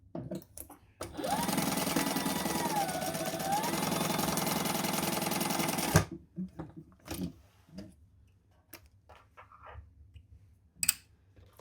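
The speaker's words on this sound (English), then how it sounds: "we're going to stitch that close so it's nice and even to start with" A sewing machine stitches a zipper pocket closed on a zip-around travel wallet, one close, loud burst of fast needle chatter lasting about five seconds, then stopping abruptly, followed by scattered handling clicks and taps.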